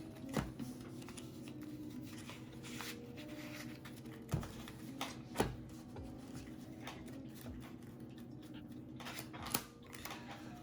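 Yu-Gi-Oh! trading cards are shuffled close by as a deck is handled, giving soft riffling and flicking with a few sharper taps against a quiet room hum, alone without talk.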